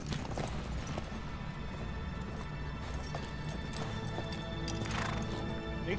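Clattering hoofbeats of galloping horses in Uncharted 3: Drake's Deception, over a dense, steady background din, with a whinny or two rising near the end.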